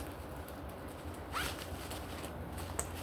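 A zipper on an inside pocket of a bag is drawn once, quick and faint, at close range against a quiet background.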